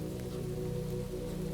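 Steady rain patters on a surface as a constant, even hiss with a low droning hum beneath it, close and unbroken, with no voices.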